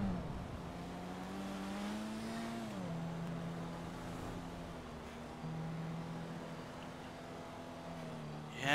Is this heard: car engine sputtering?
yes